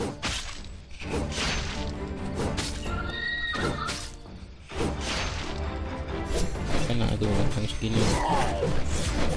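A horse in the Chimeraland video game neighs loudly in a long whinny, with hoof clops, thuds and whooshing game effects mixed in and steady game music underneath.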